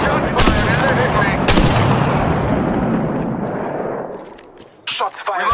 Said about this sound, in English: Shots fired and they're hitting us.